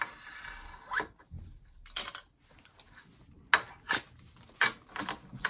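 An empty nitrous oxide flask is being cut open for scrap, producing sharp metallic scraping and cutting bursts in short irregular strokes with quiet pauses between, close and fairly faint.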